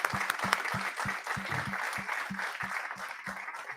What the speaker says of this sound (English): So let's have a nice round of applause.